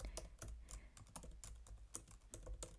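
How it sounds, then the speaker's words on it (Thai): Fingers type rapidly on a computer keyboard, the crisp key clicks coming in quick irregular bursts close to the microphone, with no speech over them. "อ่ะพิมพ์ไปเลยแล้วกัน"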